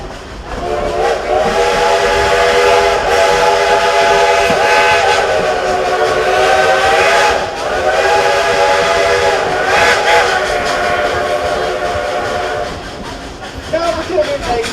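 The whistle of the Dollywood Express steam locomotive blows loud and long in sustained blasts, with a brief break, over the hiss and rumble of the train.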